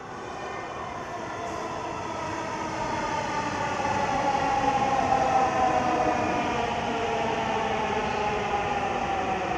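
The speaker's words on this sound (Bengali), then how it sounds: "ট্রেন এসে গেছে, ট্রেন এসে গেছে, ট্রেন এসে গেছে।" A metro train pulling into an underground-style station in Kolkata, a steady rising rumble and whine growing louder over several seconds and then holding as it arrives, close and with no voices.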